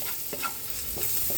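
Garlic sautéing in a pan for a Filipino home meal, a soft steady sizzle with a few brief stirring scrapes over 1.4 seconds, close and fairly quiet, no voices.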